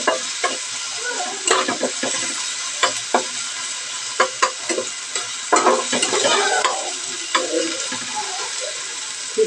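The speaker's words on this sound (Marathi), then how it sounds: "त्याच्यात आपण थोडंसं तेल टाकूया, मला कमी वाटतं म्हणून मी टाकते. तुम्हाला मग ते सगळं एकजीव करून घेऊया आपण." Vegetables fry in a little oil in a pan, sizzling steadily while a spoon scrapes and stirs them in irregular strokes, close up and with no talking.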